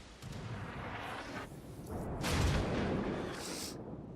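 German tier 3 battleship guns firing in World of Warships, a muffled booming salvo with rumbling low thuds and a whooshing burst midway, moderately quiet overall with no speech.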